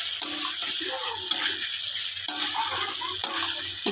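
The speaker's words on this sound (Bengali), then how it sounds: "এটা ভালো করে কষিয়ে নিতে হবে, দেখো কত ভালো টেস্ট হবে।" Curry masala being sautéed in a pan, a low sizzle with recurring scraping strokes of a spoon at regular intervals, close and moderately loud, with faint background noise.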